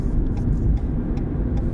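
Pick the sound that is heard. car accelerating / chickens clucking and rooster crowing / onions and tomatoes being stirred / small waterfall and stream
car accelerating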